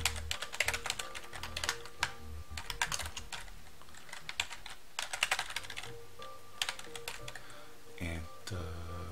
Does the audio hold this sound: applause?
no